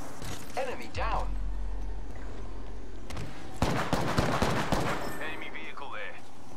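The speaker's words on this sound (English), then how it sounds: "Open fire on the enemy." Shooter video game combat: scattered shots early, then a dense volley of rapid gunfire in the second half, with in-game voices and background rumble around it.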